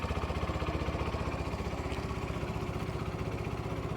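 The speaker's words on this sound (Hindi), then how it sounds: "आइडियल कंडीशन पर इंजन साउंड, एग्जॉस्ट नोट।" A Hero Xtreme 160R motorcycle idles nearby, its exhaust thumping in a fast, even rhythm that holds steady throughout.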